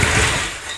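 Old Toyota motor cold starting at the back of a farm building, electric choke wide open, a loud broadband engine roar that settles slightly toward idle over under a second.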